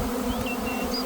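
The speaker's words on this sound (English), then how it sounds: "The bees had swarmed over into this tree," A swarm of honeybees buzzes steadily and close, a dense continuous drone with single bees whining past, no talk.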